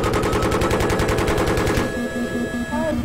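Loud, rapid automatic gunfire in a Battlefield video game, a steady rhythmic burst of closely spaced shots for about two seconds that then cuts off, leaving game ambience and a short tone.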